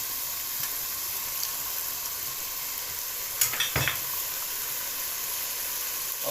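Cooking oil sizzles steadily in a pan while matar qeema fries, a constant hiss from start to end with a brief clatter of stirring partway through.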